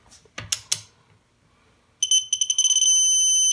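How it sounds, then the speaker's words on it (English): A digital torque wrench tightens a car wheel lug nut to 50 foot-pounds, with a few clicking ratchet strokes followed by a sharp, high-pitched electronic buzzer that beeps rapidly and then holds a steady tone, close and loud. "the buzzer's up above it, you'll hear the buzzer"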